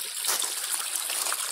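Running water from a hose or tap rinses caked mud off a fossil find outdoors in Ohio, a steady close trickling and splashing stream with no talk.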